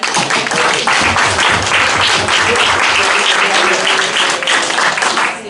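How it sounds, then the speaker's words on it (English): Audience at a live debate event gives a sustained round of applause, dense steady clapping filling the room for the whole stretch. "So let's give our frontliners a round of applause."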